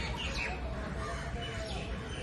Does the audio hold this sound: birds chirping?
yes